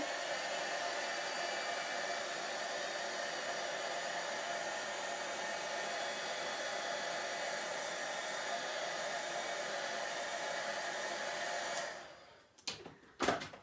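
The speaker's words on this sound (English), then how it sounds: "you can take your heat tool" A heat tool blows steadily for about twelve seconds with a loud, even, airy whir as it softens glue on a paper craft piece, then cuts off, followed by a few soft handling clicks.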